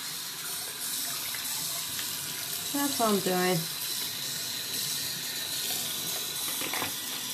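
Water runs steadily from a tap under a MaxiMist Evolution TNT spray gun as it is rinsed clean, a soft continuous splashing with someone speaking briefly over it.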